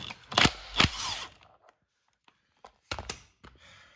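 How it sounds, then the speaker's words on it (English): A 19mm detent bolt is worked out of a Mazda FC RX7 transmission, heard as a few sharp bursts from a power tool with clicks and clanks between them and a short pause in the middle. "you take out this 19mm indent bolt"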